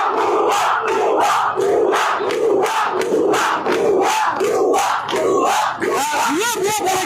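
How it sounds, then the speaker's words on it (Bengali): Protesting students at a street demonstration chant a two-beat slogan in loud, rhythmic unison, repeated over and over by a large crowd. "আমরা দেখছি যে ভুয়া ভুয়া স্লোগান দিচ্ছে"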